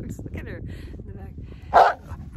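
A dog gives one short, sharp bark close by in a snowy home setting, standing out briefly against a quiet, low rumbling background.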